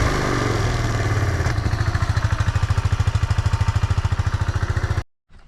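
Motorcycle running on its stock exhaust, close and loud, a steady low idle that shifts into a fast, evenly pulsing thump for several seconds before cutting off abruptly to silence.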